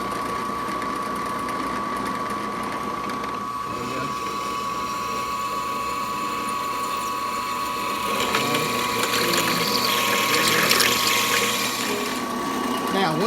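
A drill press cuts holes with a Harbor Freight step bit: a steady mechanical whir with a grinding, chattering edge that rises and gets rougher partway through as the bit bites into the metal.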